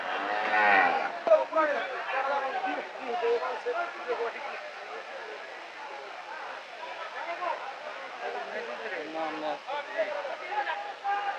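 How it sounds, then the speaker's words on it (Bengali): Cattle lowing at a busy cattle market in Ashulia, with drawn-out moos rising among a crowd's babble and nearby talking, loud at the start and continuing underneath. "দেখুন কত বড় একটা গরু এটা"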